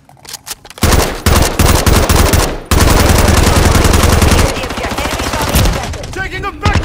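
Sustained automatic machine gun fire in Call of Duty Modern Warfare III, loud rapid bursts that pause briefly and resume, with faint battlefield callouts underneath.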